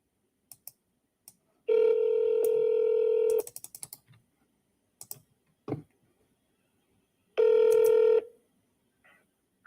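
Telephone keypad tones dialing an agent: two long sustained beeps with scattered button clicks and short key taps between them, close and clear with no talking.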